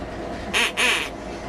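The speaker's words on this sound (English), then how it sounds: "there's a chance you might be interested in one of these quackers" Two loud honks from a duck quacker noisemaker toy on a Wisconsin Dells Duck Boat tour, a short blast then a slightly longer one, close and clear with no talk.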